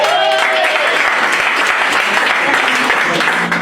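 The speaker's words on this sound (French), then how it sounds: "Applaudissements pour Joe." A group at a youth exchange gathering applauds loudly and continuously for a participant, dense sustained clapping from many hands filling the whole stretch with faint voices underneath.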